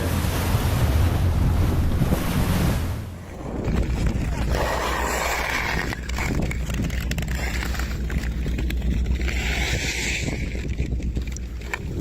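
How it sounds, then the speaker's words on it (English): Ocean waves from two wave systems collide over a shallow reef, a broad roar of surf and crashing spray mixed with heavy wind buffeting the microphone. "two wave systems meet over a shallow reef, forcing water upward into a dramatic explosion-like spray"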